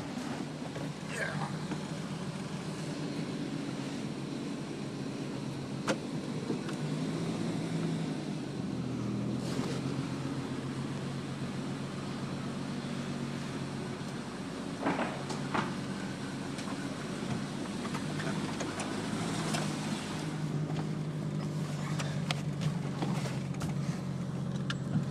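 A 1992 Jeep Cherokee 4x4 driving, with a steady engine drone and road and wind rumble heard from inside the vehicle, and some speech over the top.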